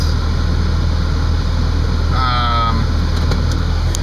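A 2002 Audi S4 engine idles steadily just after starting, a constant low hum with a brief faint whine partway through.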